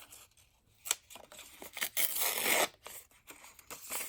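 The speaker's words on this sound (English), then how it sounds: "I'm thinking that maybe I want to tear it a little better" Craft paper torn by hand up close, with short rips and rustles and one longer tear in the middle, fairly quiet and without talk.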